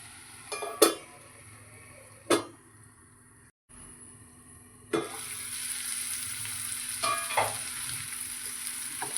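Ivy gourd and curry leaves fry in a pan, a soft sizzle underneath a few sharp clinks of a spoon or lid, with the hiss growing brighter and steadier later on.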